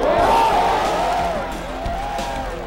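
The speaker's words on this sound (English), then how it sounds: "Well, the crowd likes it." Golf gallery crowd at a 1998 final round cheering a shot, a sustained distant roar of voices and whoops that slowly fades.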